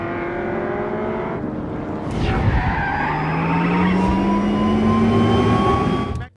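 In a movie car chase, a car whips around with loud squealing tires, then its engine roars as it speeds off, the noise cutting out abruptly at the end.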